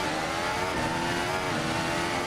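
A failing Ferrari Formula 1 power unit roars continuously at high revs during practice at the Austrian Grand Prix, with a harsh, strained, rasping tone throughout and no pauses.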